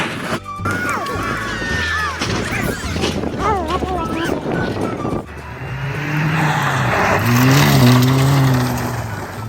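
A car driving with the e-brake pulled skids with loud tire squeal and engine noise, following a stretch of talking; the skid grows in the second half as rubber screeches in wavering tones.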